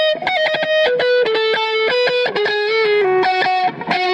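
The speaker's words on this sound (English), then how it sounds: "And then I play a guitar solo right there" A guitarist plays an electric guitar solo through an echo pedal, a loud, distorted stream of sustained notes with repeating echoes stacking behind them, continuous and close, with no talk.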